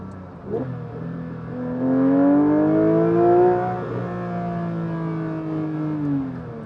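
A manual Porsche GT3 sports car engine revs hard toward 9000 RPM, a single rising mechanical wail that peaks and then holds and falls away, heard close and loud from inside the car.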